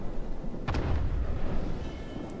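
A salvo from the Hindenburg cruiser's guns in World of Warships, a single heavy booming blast with a sharp crack at its onset, followed by a low rumbling tail that lingers steadily.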